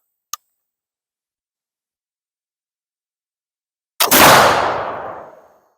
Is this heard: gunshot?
yes